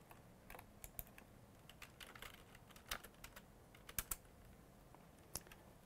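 Fingers tap on a computer keyboard in quiet, irregular bursts of light clicks, with a few sharper keystrokes standing out. No one speaks.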